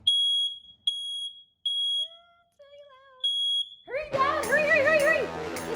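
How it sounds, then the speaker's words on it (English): A home smoke alarm sounds during a family fire drill, several piercing close beeps in a regular pattern, briefly broken by softer tones, then children cry and shout loudly over it. "the fire alarm started going off"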